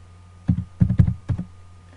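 Fingers type on a computer keyboard, a few short clusters of close, soft clicking keystrokes separated by brief pauses in a quiet room.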